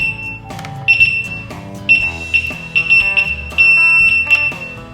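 A Begode RS electric unicycle sounds a series of loud, high-pitched electronic beeps as it powers on. The tones repeat in an uneven rhythm, mixed with shorter chirps and clicks.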